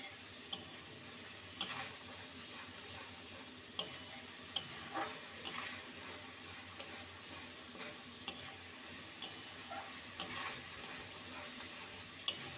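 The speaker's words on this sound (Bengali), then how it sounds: "ভালো করে মশলাটাকে কষিয়ে নেব।" Spices with slit green chillies being sautéed in a pan for a pumpkin and potato dish, a steady soft sizzle under repeated sharp spatula clicks and scrapes against the metal.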